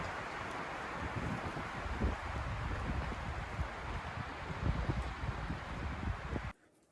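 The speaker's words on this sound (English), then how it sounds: "Got ice pellets falling from the sky and wind whipping around." Strong wind with falling ice pellets outdoors at a chicken coop build site: loud, continuous rushing and buffeting with a dense patter across the microphone, cutting off abruptly near the end; no talk.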